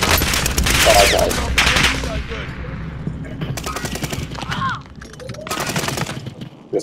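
Loud bursts of automatic gunfire in a Call of Duty match crack out in several clusters, close and sharp, with voices talking over the shooting between bursts.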